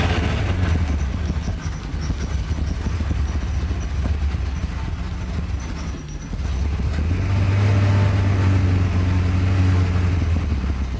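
Porsche 928 engine making its first start, cranking and then catching into a rough, steady low rumble that grows fuller toward the end, with no talking.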